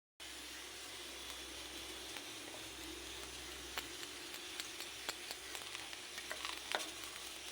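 A semolina and flour batter fries in hot ghee with a soft, steady sizzle, scattered crackles and occasional stirring clicks that grow a little busier toward the end.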